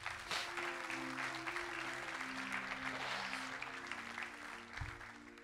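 Church congregation clapping together during a service, a dense sustained wash of applause over faint low organ or keyboard tones and a few low thumps.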